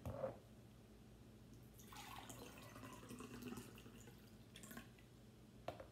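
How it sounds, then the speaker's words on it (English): Tea poured into a cup trickles and splashes as a faint, steady liquid stream, with a brief clink at the start and end of the pour and no talking. "I want to show you two examples of pouring the tea"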